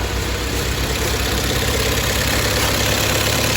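A restored Toyota engine idles steadily and close up, a constant low, mechanical drone with an even rhythmic pulse for a few seconds, then cuts off abruptly at the end. No voices.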